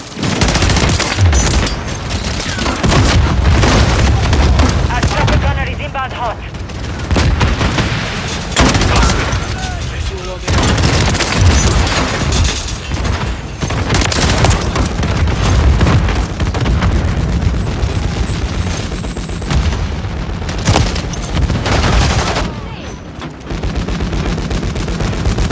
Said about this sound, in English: There's a guy with an actual rocket launcher, bro.